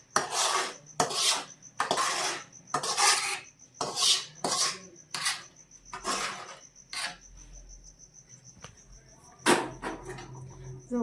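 Puffed rice stirred into hot jaggery syrup for mamra ladoo, a series of dry rasping, scraping strokes in uneven rhythm, close and fairly loud, with pauses between bursts.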